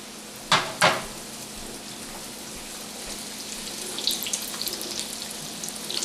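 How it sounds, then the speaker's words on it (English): Hot oil poured over chili pepper and peanuts for Chinese hot oil gives two sharp splashes near the start, then a steady close sizzle and crackle that swells slightly toward the end. "I'm going to take my hot oil and put it into the mixture I had before."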